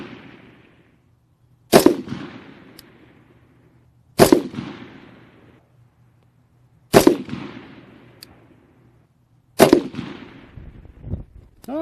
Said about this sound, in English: Let's put down another 5-shot group.